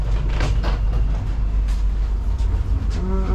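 Steady low rumble and rattle of a moving train heard from inside a compartment carriage in Romania, with faint clunks and creaks throughout.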